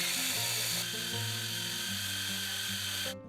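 A food chopper whirs steadily as it grinds boiled chicken liver, sautéed vegetables and a little cooking liquid, a continuous close motor hum with a droning tone, cutting off abruptly at the end.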